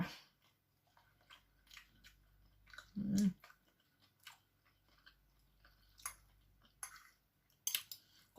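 Someone bites into and chews a black mushroom pie, giving a single loud, close crunching bite followed by quiet, sparse mouth sounds and faint clicks in a mostly hushed setting.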